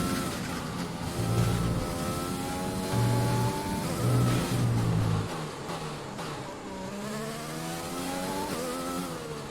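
An F1 car from F1 2020 on a qualifying lap at the Brazilian Grand Prix, its engine note climbing and dropping through gear changes, steady and close throughout with no talk.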